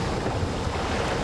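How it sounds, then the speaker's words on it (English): Waves slap against a boat at sea, a close, steady churning wash mixed with wind rumble across the whole short moment. "The waves hitting the boat"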